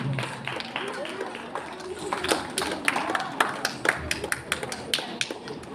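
Scattered, uneven clapping from an audience at a church children's program prize giving builds into sharper, irregular claps in the second half, with voices talking in the room.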